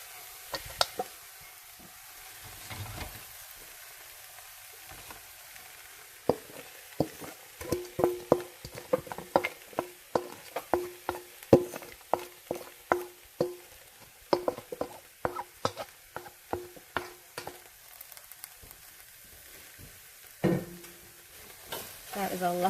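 A large batch of onions goes into a pot for onion jam, then a soft sizzle runs under a long series of close, clattering stirring strokes and scrapes, with no one talking.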